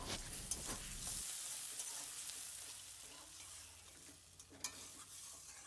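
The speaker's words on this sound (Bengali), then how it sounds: "এটাকে ভালো করে এটাকে নেড়ে নেব" Turmeric, chili powder and salt are stirred in a pan for a rohu fish dish, giving a soft oily sizzle with scraping stir strokes, a louder clatter at the start and then quieter frying.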